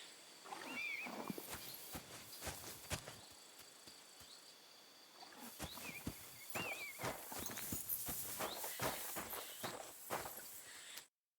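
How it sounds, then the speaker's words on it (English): Hooves of a grey horse clip-clop in a video game: uneven walking hoof strikes, some close and crisp, over faint outdoor ambience, with a brief whinny-like call near the start and a sudden cutoff at the end. "That grey horse you have grazing here is mine"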